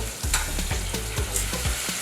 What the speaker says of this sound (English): Right now we're frying these wings with our spicy batter